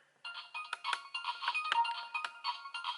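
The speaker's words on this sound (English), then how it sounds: "It will start ringing" A synthetic ringtone from a DX Spider phone plays continuously, a bright warbling electronic melody with repeating tonal bursts, fairly close and steady throughout.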